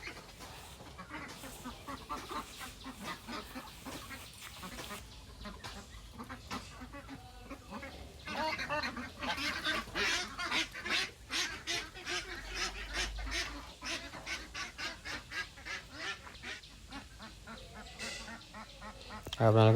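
Ducks on a local Assam duck farm, a flock quacking and honking continuously and fairly close, with rapid repeated calls throughout and little talk.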